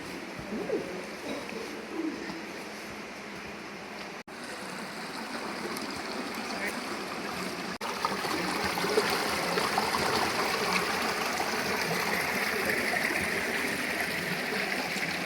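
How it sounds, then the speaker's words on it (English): An underground stream flows through Blue Spring Cave in Tennessee, a steady trickling, rushing wash of water that grows louder partway through and continues without pause. "we're going down here to what's called the river crossing, where the stream comes through the cave"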